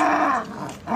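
A puppy growls while fighting over a bone with its littermates, a short close-up rumbling growl that dips briefly and then swells again.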